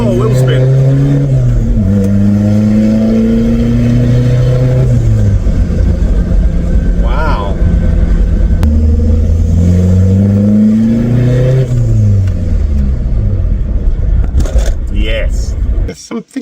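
A VW Passat B3 with a PD150 diesel engine accelerating hard with wheel spin, its loud engine note rising through several gear changes up close, while people inside talk over it.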